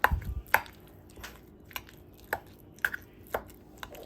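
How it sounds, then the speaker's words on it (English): Meat and farro being mixed together by hand for stuffed peppers, giving soft squishy, wet thuds in an irregular rhythm, close and moderately quiet, with a few sharper knocks among them. "we're gonna mix the meat and the farro"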